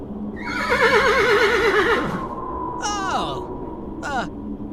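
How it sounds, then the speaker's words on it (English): A horse neighs loudly up close, a long wavering whinny followed by shorter descending snorting squeals. "horse."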